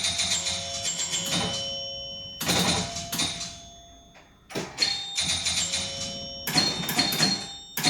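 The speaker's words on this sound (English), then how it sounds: "the chimes and everything you hear is all coming from the surround sound feedback" Bright electronic chimes ring out in several bursts with sustained tones from a virtual pinball cabinet's surround sound, mixed with clicks and mechanical clatter, fairly loud.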